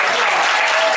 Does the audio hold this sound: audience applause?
yes